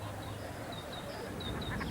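Ducks quacking at an outdoor duck pond, a few short calls spread across the clip over steady background ambience, moderately distant.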